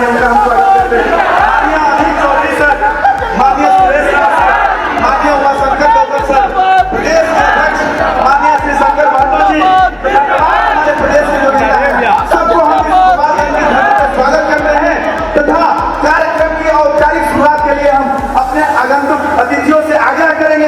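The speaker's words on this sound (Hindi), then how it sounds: "रैलियों में लाखों की भीड़ जुटी। पटना से मुजफ्फरपुर तक नीला झंडा लहराया और बसपा के नारे गूंजे।" Large crowd at a Bahujan Samaj Party political rally in Bihar, a dense continuous roar of many voices chanting and shouting together, loud and sustained throughout.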